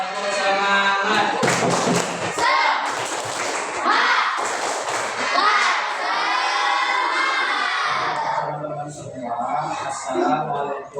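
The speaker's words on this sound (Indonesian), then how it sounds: "tepuk semangat." Children in an Indonesian sixth-grade primary school class doing a rhythmic spirit clap, a crowd of young voices shouting and singing over thumping claps that stay loud and busy throughout.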